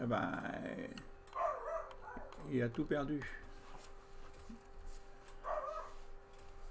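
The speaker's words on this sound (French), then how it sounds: "qui c'est qui aboie? C'est pas mon chien, ça." A dog barks outside in a few short bursts, fairly faint and distant, under someone speaking nearby over a steady low hum.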